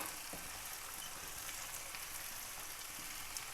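Finely chopped capsicum frying in a pan for chicken vegetable kebab mix, a steady soft sizzle throughout with faint stirring, no voices.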